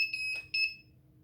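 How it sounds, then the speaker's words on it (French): An Arduino-built home alarm buzzer sounds two shrill, steady electronic beeps in a quiet garage, a short gap between them, close and fairly loud with no voices. "L'alarme est en cours."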